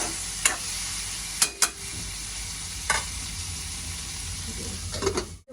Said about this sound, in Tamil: எண்ணெயிலேயே நல்லா வதங்கி வரட்டும்